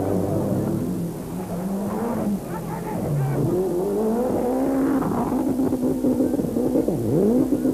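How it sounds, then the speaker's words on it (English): Toyota Celica rally car on a WRC Argentina special stage in 1993, its engine note rising and falling unevenly with a gearbox problem, loud and continuous over nearly eight seconds, with faint speech underneath. "the problem can be clearly heard in the Celica's exhaust note"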